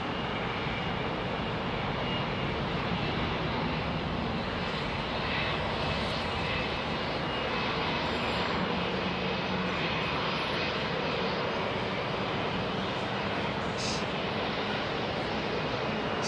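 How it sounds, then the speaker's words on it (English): Narrow-body airliner powering up its engines on the active runway at Heathrow, a loud, steady, broadband roar heard from a distance with no talk. "I think we've got a narrow body making its way onto the runway, the active runway now."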